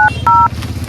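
Two quick telephone keypad tones sound up close, a short beep followed by a slightly longer one, each a clean electronic dual-pitched note over a low background hum.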